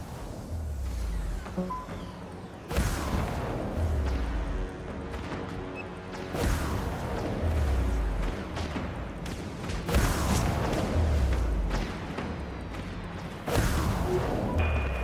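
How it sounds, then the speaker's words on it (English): Missile launches and heavy explosions from an artillery cruiser being destroyed in the space warship game Dreadnought, several loud booming bursts arriving at intervals over a steady rumbling engine drone, with no talk. "Launching drain missile."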